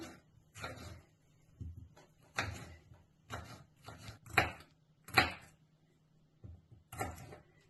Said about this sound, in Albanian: Tani po presim hurdhrat. Edhe qepën po njëkohësisht.